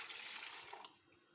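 Water pours into a cooking pot of chicken pulao, a short, hissing, close rush that tapers off after about a second.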